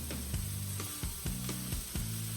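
Sausage and broccolini sizzle in a pan, a constant hiss broken by a few repeated clanks and scrapes of a utensil against the pan at a steady rhythm.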